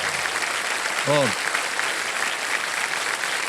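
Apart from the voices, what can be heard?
studio audience applause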